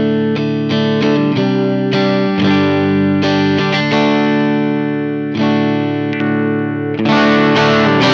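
Distorted electric guitar played through an amp with gain for worship music, loud sustained chords and struck notes ringing with effects, no voices.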